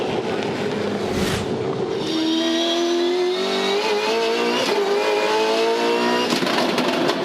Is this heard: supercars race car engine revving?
yes